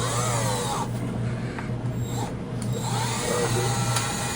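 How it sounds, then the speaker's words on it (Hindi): A power drill whirs steadily at close range for the whole stretch, its pitch shifting slightly as it runs in a home kitchen. "ड्रिल है वो नहीं लेना राम"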